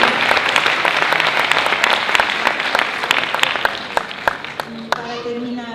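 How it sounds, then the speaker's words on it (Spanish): Audience applause for a documentary at a project presentation gala, steady clapping from a crowd with a few distinct sharp claps standing out near the end as it winds down and a voice begins. "un aplauso para el documental"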